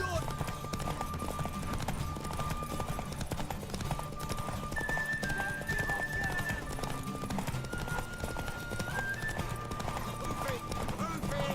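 Horse hooves clip-clop in a steady running rhythm within The Witcher 3, with neighing calls rising above the hoofbeats and a busy game-world background, while voices speak over the scene.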